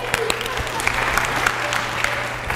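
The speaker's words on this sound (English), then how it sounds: "Give him a round of applause" A church congregation applauds a man during a sermon on forgiveness, a steady patter of hand claps with a few sharper nearby claps, and a low hum running underneath throughout.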